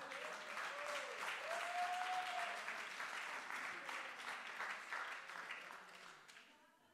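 A church congregation bursts into sustained applause during a worship service, a dense crowd of clapping that holds steady and then gradually fades, with a voice calling out briefly over it.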